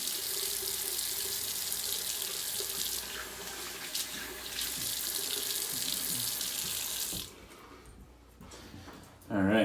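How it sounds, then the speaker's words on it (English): Water runs steadily from a tap for several seconds while a freshly shaved head is rinsed, then the flow drops off abruptly before a brief louder splash at the end. "I'm gonna give a quick rinse to my head, kind of get some of the loose hair off"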